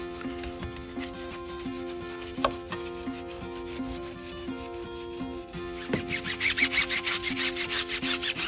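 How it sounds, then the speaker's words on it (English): A brush scrubs the dirty inner barrels of a Mini Cooper's wheels in steady rhythmic strokes, close and moderately quiet, growing faster and wetter toward the end, with no talking. "Give the wheels a thorough scrubbing."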